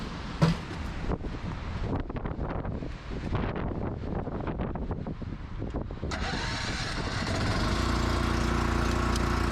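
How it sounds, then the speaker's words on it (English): A portable generator starts up outdoors on a mountain, settling into a steady low engine hum after gusty wind noise buffets the microphone. "So we got the generator running"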